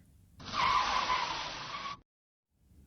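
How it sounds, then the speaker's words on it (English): A tempo van braking suddenly and skidding to a stop on a dark, empty road, a loud harsh tire screech lasting about a second and a half that cuts off abruptly into silence. "Till then, the brakes are suddenly applied."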